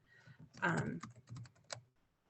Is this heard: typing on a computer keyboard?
yes